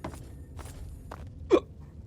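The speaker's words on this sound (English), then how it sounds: "Oh, got the hiccups again." A single close, sharp hiccup stands out over faint background noise and soft breathy sounds.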